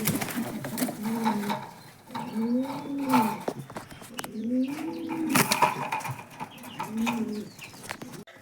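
Pigeons coo in a rhythmic series of soft, rounded calls, repeating every second or two at close range over a faint outdoor background.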